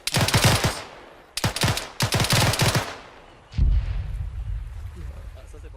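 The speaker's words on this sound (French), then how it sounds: "BMG essaie de tirer par coup de rafale et de faire en sorte que l'un tire puis l'autre tire." Automatic gunfire in rapid bursts during a commando-style shooting game, several loud chattering volleys separated by short pauses, followed by a deep heavy thud and lingering rumble.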